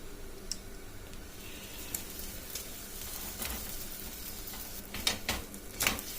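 A mango paratha frying in ghee or oil on a pan gives a soft, steady sizzle with occasional light ticks and scrapes, close and fairly quiet.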